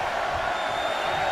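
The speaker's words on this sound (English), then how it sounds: "Listen to this crowd count the next one in." A dense arena crowd roars steadily throughout at a video game wrestling match, with no clear individual counts standing out.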